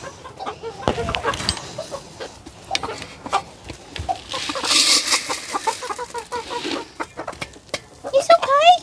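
Silkie chickens cluck and chatter inside a coop, close and lively, with overlapping calls, a few sharper squawks and some talk mixed in.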